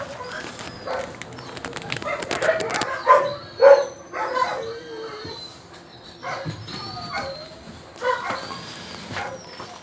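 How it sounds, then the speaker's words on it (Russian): A small dog that has caught a cold in severe frost gives scattered barks and thin whimpers outdoors, mixed with bird calls and a flutter of wings, the sounds coming in irregular bursts of varying loudness. "Собачка Сосулька из ППЖ, на глазах которой висели сосульки в минус 55, была простужена"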